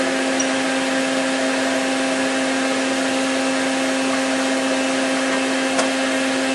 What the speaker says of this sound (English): What I'll do is I'll start the lathe.